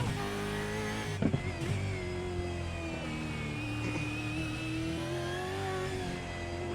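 A Mustang race car on a V8 Supercars street circuit in Detroit produces a sustained, buzzing engine note whose pitch rises and dips slightly as it drives past, steady and moderately distant, with no talking.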